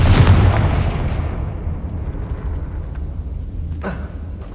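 The Confringo explosive spell in the Hogwarts Legacy video game goes off as one heavy boom that fades into a long rumbling tail, followed by a short sharp burst.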